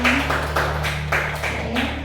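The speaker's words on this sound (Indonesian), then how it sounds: "Tepuk tangan Bapak Ibu untuk kita semua" A teachers' gathering applauds in a hall, with bursts of rhythmic clapping rising and falling over a steady low hum.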